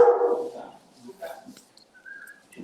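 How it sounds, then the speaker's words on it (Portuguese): A dog begging for food gives a loud bark up front, then softer whimpers and whiny yips trail off, with light household sounds in between. "é o cão pedindo ração"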